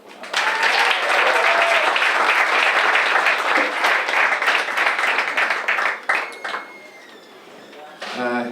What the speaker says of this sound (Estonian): Teeme veel kord suure aplausi Aarnile.